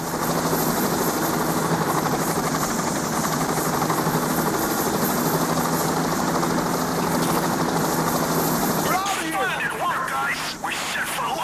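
A helicopter's rotor drone fills the scene steadily and loudly in the video game Payday: The Heist, with game sound effects and a shift in tone near the end.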